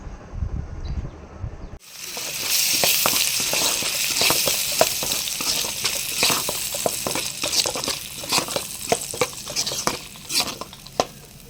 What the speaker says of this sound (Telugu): గ్రీన్ పేస్ట్ని అయితే వేసుకుని సిమ్లో పెట్టి వేయించుకోండి